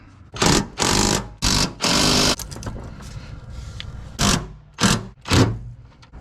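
A power tool snugs down 13 mm bolts on the battery box of a 2003 Silverado, sounding as a series of short, loud whirring bursts, several in quick succession, then a pause and three more.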